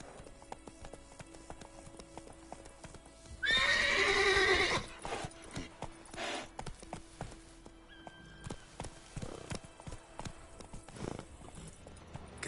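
A horse in The Witcher video game gives one loud whinny near the start, then its hooves keep up a clip-clop gallop in the foreground, with only faint ambient background around it.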